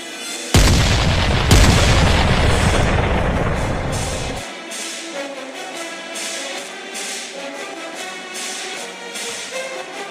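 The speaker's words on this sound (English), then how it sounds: "Cannon is ready. And fire!" Cannon fire in an animated adventure: two loud booms in quick succession, the second rolling into a long decaying rumble, followed by a quieter ringing tail with scattered faint clicks.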